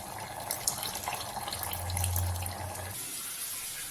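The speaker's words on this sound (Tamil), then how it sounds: "இப்போ புளி தண்ணியை கொஞ்சம் சேர்த்துக்கோங்க" Tamarind water pours into cooked red-stem amaranth greens, a soft splashing trickle lasting a couple of seconds with light clinks, close by and alone.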